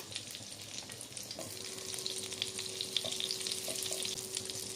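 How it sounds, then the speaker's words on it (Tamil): Butter and a little oil warm in a kadai for pav bhaji, producing a faint, steady sizzle that grows slightly over time, with a thin steady tone and a few small clinks. "கடாய் அடுப்பில் வச்சுட்டு கடாய் சூடு வரவும் வெண்ணெய் சேர்த்துக்கலாம்"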